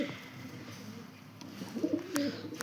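Malwai white pigeons with white eyes coo softly, a few low throaty calls near the end over a faint ambient background.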